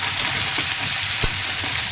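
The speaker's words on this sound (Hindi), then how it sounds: "मैं इसमें डाल के थोड़े से आलू और मेथी को थोड़ी देर के लिए दोबारा से भून लूँगी" Potatoes and fenugreek leaves frying in a pan, producing a loud, steady, close sizzle with a few soft stirring knocks and no talking.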